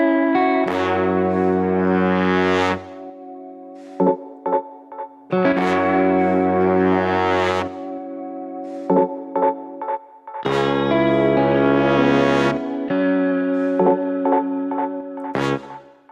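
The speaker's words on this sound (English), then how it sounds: "So you can hear there's still a decent amount of reverb" A music mix plays loud sustained chords broken by short staccato stabs, with a reverb tail cut to about one second, so each hit rings briefly before stopping.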